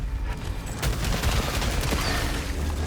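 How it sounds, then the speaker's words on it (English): Dense video-game gunfire in Returnal, a sustained volley of shots and bullet impacts crackling close and loud throughout with no pauses, heavy low booms mixed into the barrage. "bullets were flying around"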